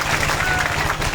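Dense crowd applause at a political gathering, cheering a performer's show, a loud continuous wash of many hands clapping throughout the short moment.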